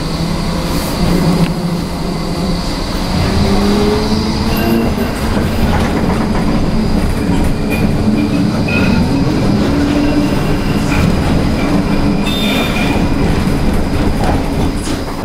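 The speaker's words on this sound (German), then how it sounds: "Hier ist eine Flexity 2 zum Einsatz gekommen, also das neueste Fahrzeugmodell in Antwerpen." A Flexity 2 tram rides through Antwerp on one of the newest lines to the harbour area, giving a steady onboard rumble with rail clatter, wheel squeal and passing high tones throughout, with no talk.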